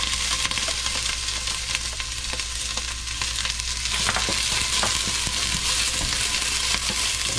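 Onions frying in a pan at home, a steady broadband sizzle with occasional stirring clicks and scrapes, close and continuous with no talking.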